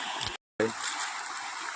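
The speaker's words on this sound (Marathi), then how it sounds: "हे बघा मंडळी हे पा व्हाळेला पाणी आहे" Flowing water in a stream rushes with a steady hiss, broken by a brief cut, while someone talks over it.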